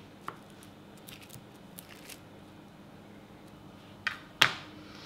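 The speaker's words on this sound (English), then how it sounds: "You probably want to cut these about 1/4 inch thick." A knife slicing rolled puff pastry into palmier pieces about a quarter inch thick: scattered faint taps, then two crisper close cuts against the board near the end in a quiet room.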